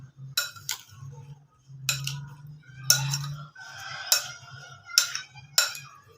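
Chopped bananas being stirred into a fruit chaat in a bowl, giving short clinking and scraping spoon strokes in separate bursts, with a low hum running beneath.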